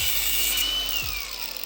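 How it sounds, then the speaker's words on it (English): An angle grinder cuts into a scrap air compressor part that turns out to be aluminium. The harsh, loud, continuous grinding whine holds steady, and its pitch sags slightly as the disc bites in. "I'll get my grinder onto it and we'll see if we've got a bit of a win here"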